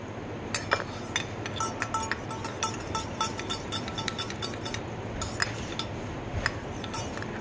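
A spoon stirs hair oil in a small bowl, giving soft scraping and light clinks against the rim in an irregular rhythm, close and fairly quiet, with no talk.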